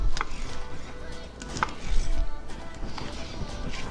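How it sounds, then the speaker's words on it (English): A knife slicing through smoked baby back ribs cooked in a Pit Barrel cooker until falling apart, with thuds and cuts against a cutting board, close and fairly loud, with no talk. "So let's just get to slicing."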